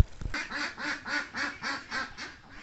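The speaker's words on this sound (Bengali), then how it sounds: "দেখেন কত আহ সুন্দর করে হাঁসগুলা হেঁটে হেঁটে আসতেছে পুকুরের পাড় দিয়ে" Ducks walking along a pond bank quack in a steady run of about nine evenly spaced nasal calls, close and fairly loud, with no other sounds around them.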